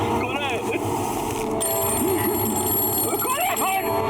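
A telephone rings in a dramatic TV scene, its warbling bell repeating in bursts under a steady bed of background noise and music, with voices talking over it.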